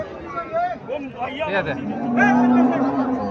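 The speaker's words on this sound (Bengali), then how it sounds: "হাড্ডিসার গাভী আছে, লম্বা চূড়া আছে, গাভী লম্বা চূড়া আছে।" Cows and other cattle moo at a busy traditional cattle market in Cumilla, Bangladesh, with long lowing calls rising over the chatter of buyers and sellers talking nearby.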